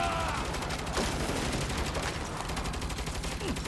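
Sustained gunfire from a mounted turret in Saints Row, a dense continuous barrage of rapid shots under a busy game soundscape with no break.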